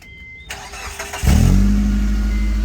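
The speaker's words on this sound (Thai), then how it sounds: "เดี๋ยวเราฟังเสียงเครื่องยนต์กันนะครับ" A Mitsubishi Space Wagon engine cranks briefly and catches, then settles into a loud, steady idle close by.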